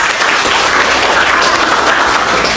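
An audience in a classroom teaching session claps after a group finishes telling a story, a steady dense patter of many hands sustained throughout at close range, with no talk over it.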